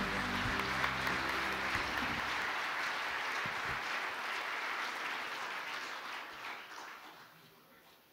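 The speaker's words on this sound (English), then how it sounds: "please welcome Madam President with a big round of applause" An audience applauds to welcome President Park Geun-hye at the opening ceremony of the 7th Asian Leadership Conference: a broad, steady wash of many hands clapping that keeps going for several seconds and slowly fades toward the end.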